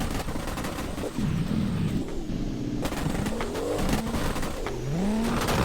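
A Toyota JZX and a Nissan S15 drift together as engines roar loudly and steadily, while tires let out repeated rising squeals and screeches over the engine noise.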